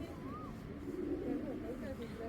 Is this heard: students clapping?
no